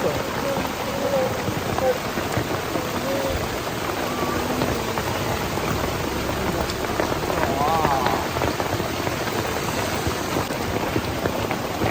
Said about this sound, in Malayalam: ഇറങ്ങിയതും അടിപൊളി മഴ